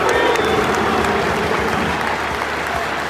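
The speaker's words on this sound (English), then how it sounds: "Claps from the Welsh fans." Welsh football fans applauding at half time during a Championship match between Wrexham and Sheffield United, a steady wash of clapping from a large stadium crowd throughout, with a commentator's voice faintly underneath.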